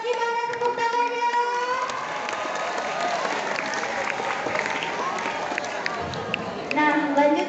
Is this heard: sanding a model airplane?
no